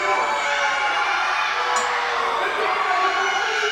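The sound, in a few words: crowd cheering in wrestling video game Ronin Rumble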